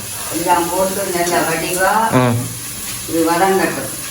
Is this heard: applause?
no